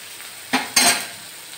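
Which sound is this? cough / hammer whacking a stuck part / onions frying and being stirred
onions frying and being stirred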